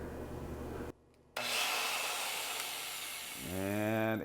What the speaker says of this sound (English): So we're going to run the grinder